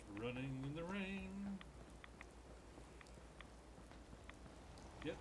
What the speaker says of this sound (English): I'm running in the rain,